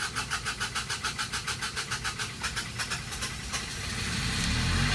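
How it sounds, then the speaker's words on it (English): Westerbeke marine diesel generator starting up: a rapid, regular chugging of the starter cranking, then the engine catches and settles into a steady, loud running drone. "And you can hear the generator fire up."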